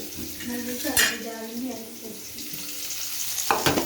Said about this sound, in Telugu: రెండు టేబుల్ స్పూన్ నూనె వేయాలి ఆకు వేయించుకోవాలి కదా